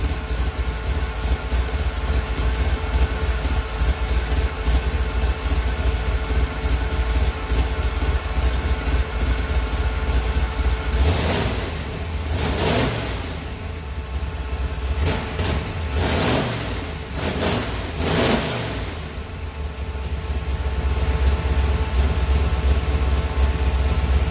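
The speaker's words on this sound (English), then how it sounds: "So I'm just going to let it idle for a little bit so it gets up to temp" A 1977 Chevy Camaro engine idles steadily and close for a long stretch while warming up, with a brief rougher patch of louder revving in the middle before settling back.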